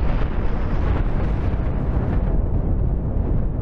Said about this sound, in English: Come on, missiles, you are my only hope here.